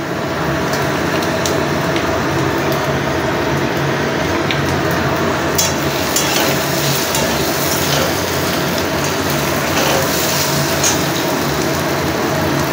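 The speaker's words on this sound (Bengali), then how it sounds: "এরপর দিচ্ছি একটু হিং ফোড়ন" Asafoetida tempering with cumin seeds sizzles in hot oil beside potatoes and fish, a dense, steady crackle and hiss that stays loud and continuous with no one talking.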